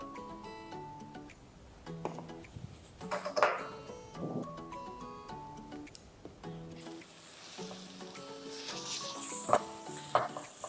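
Ground spice paste for Banten-style beef rabeg sizzles and crackles in hot oil, a steady close frying hiss broken by stirring scrapes and clinks, growing brighter and more intense toward the end.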